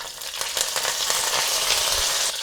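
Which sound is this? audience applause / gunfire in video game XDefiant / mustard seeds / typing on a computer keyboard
mustard seeds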